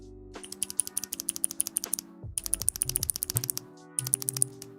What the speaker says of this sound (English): You hear that? It's a hand-painted keycap.